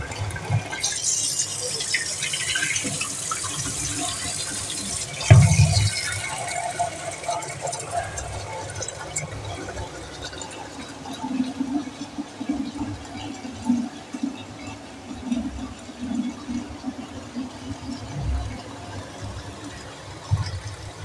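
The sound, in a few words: washing soaked lentils (dal) with water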